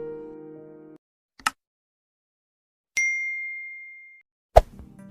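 Short digital notification chimes: a soft tone, then a click, a single bright ding that rings out and fades over about a second, and a final sharp pop with a brief tail, each set against silence.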